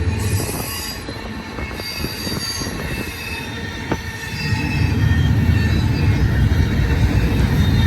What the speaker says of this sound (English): We have got a Z train eastbound main track number 1.